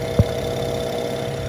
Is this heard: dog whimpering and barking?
no